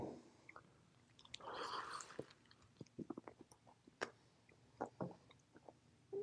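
Close, quiet chewing of a fried chicken and egg salad sandwich, with wet squishy bites and irregular smacking clicks.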